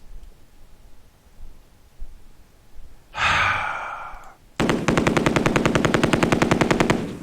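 Light machine gun fire in a World War II tactical war game plays as a long, rapid, evenly spaced burst after a brief swell of noise, loud and close, with no talking.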